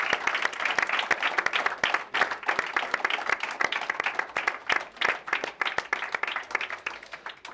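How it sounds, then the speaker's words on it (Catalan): A school audience applauds honorary member Òscar with loud, dense clapping that carries on steadily for several seconds, individual sharp claps standing out within the crowd's sustained ovation. "un fort aplaudiment per l'Òscar"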